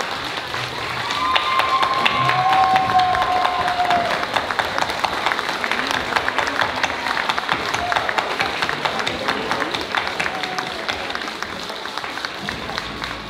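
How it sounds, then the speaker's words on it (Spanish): Crowd at a quinceañera-style celebration giving a standing ovation, steady clapping of many hands at moderate distance, with voices and a few whistles rising over it early on. "¿Podrían brindarles un aplauso de pie,"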